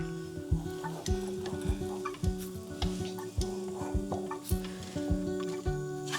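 Dry ingredients are added and stirred into oatmeal cream pie dough in a mixing bowl: steady, rhythmic scraping strokes about once a second, with light knocks against the bowl, close and fairly quiet.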